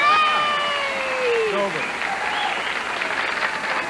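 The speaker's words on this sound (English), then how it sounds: "Oh, listen to this crowd." A television game-show studio audience applauds and cheers loudly and steadily, with a short spoken phrase near the start over a fading tone.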